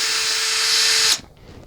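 An electric step drill bores a hole through a 2018+ Honda GoldWing motorcycle panel, a loud steady whine running alone for about a second before cutting off abruptly into near silence.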